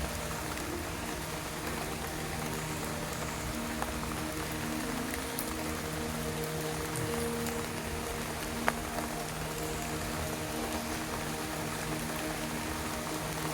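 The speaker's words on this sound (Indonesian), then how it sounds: "Oh, lihat hujan." Steady rain falls in a forest, a dense, even patter of drops on leaves and ground that continues without pause at moderate volume, with no voices.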